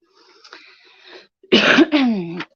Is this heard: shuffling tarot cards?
no